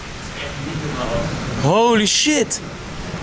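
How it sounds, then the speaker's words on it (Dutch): Broad, rushing noise like strong wind buffeting outdoors, with a brief startled exclamation from a voice partway through. "Zieke wind ook."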